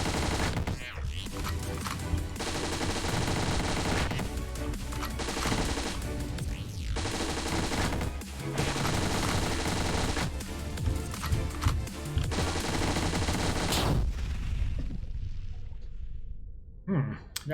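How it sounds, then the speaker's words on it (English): Rapid automatic gunfire from an Uzi in the pixel-art dungeon game Dungreed, loud and dense in sustained bursts with short gaps over about fourteen seconds before dropping away, with game sounds and some voice mixed in. "That's a good time to have an Uzi."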